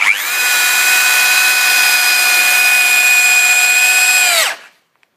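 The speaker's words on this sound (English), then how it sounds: "So we need a pretty strong drill here, and we're going to drill that into the top to that full depth." A power drill whines steadily at high speed for several seconds, loud and close, boring into a wooden bench top, then winds down and stops.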